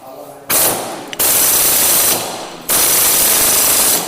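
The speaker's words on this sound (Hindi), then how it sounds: "मशीन से हमने प्रॉपर टाइट किया" Two loud bursts from a pneumatic impact tool rattle hard as they tighten the clutch housing on an Apache RTR 200 motorcycle, and a softer mechanical hum runs under them and fills the short gap between.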